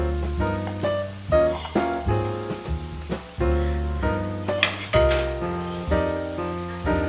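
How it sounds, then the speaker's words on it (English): A fish fillet sears skin-side in a hot pan, giving a steady sizzle and frying hiss that runs beneath prominent background music. "sealing the sides of the fish or the skin of the fish, and now allowing it to cook slowly"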